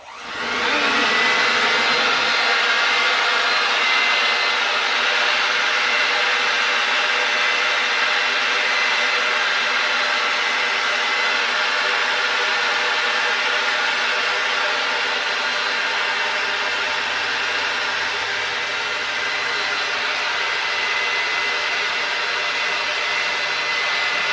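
A handheld leaf blower dries rain-soaked plants in a garden, roaring loud and steady from close by after a short start-up, holding an even drone for the whole stretch with no talking.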